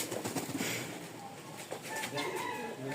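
Pigeons, including Simi-coloured males and females, coo on a pigeon farm in Rajshahi, a soft steady murmur of several birds at moderate distance with faint background noise.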